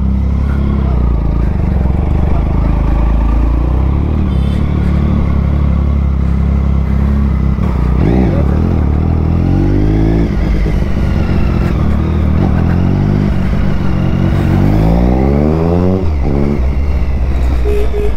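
A vintage two-stroke motorcycle at a classic superbike and two-stroke event, its engine loud and close throughout, with several sharp throttle blips rising and falling in pitch over a constant rough idle.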